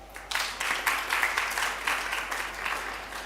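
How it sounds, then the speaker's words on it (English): Audience at a private-sector workplace dialogue event giving a round of hand claps, moderately loud rhythmic clapping that swells quickly and holds steady before tapering slightly. "I request all of us to really give her a hand clap."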